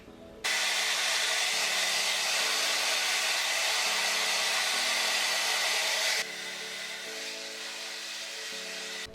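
A handheld hair dryer run at full speed on warm heat while drying curly hair, a loud steady whooshing roar with a hum underneath that drops slightly in level partway through, close up.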